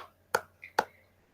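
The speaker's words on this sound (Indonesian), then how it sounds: "Beri 3 tepuk untuk Kak Rusman." An audience in a physical education teacher training session gives a quick three-beat clap in a quiet room: two sharp claps with a softer one between them.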